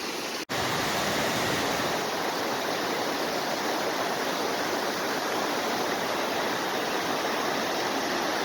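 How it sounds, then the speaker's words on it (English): A fast-flowing stream of snowmelt water rushes outdoors, giving a loud, dense, unbroken roar that holds steady throughout, apart from a tiny dropout near the start. "Can't believe how fast that water is moving."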